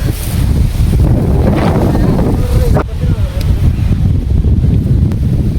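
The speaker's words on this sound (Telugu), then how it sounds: "గాలి మామూలుగా లేదురా" Strong, steady wind on a hilltop roars and buffets the microphone throughout, a loud low rumble with gusts rising and easing.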